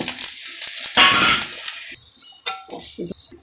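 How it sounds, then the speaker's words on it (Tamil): Ginger, shallots and garlic roasting in a pan with coconut and spices for a black chickpea curry, giving a steady broadband sizzle with bursts of louder frying as the mix is stirred, plus occasional soft clinks. "இப்படி செவத்து வாரது வரை வறுக்கணும்"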